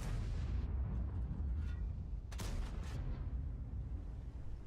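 An M103 tank's main gun fires in a tank video game, one sharp heavy blast standing out over a low, rumbling battle background with softer distant thuds around it.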